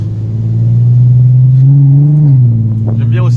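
A Nissan Skyline R32's engine drones loud and close as a steady low rumble whose pitch rises briefly and then settles back before fading slightly at the end.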